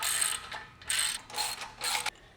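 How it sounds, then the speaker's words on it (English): A ratchet wrench tightens nuts and bolts on a Smith machine during assembly, heard as four close bursts of rapid clicking with short pauses between them. "Go ahead and tighten down all the nuts and bolts."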